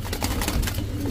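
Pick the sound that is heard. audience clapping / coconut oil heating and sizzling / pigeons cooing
pigeons cooing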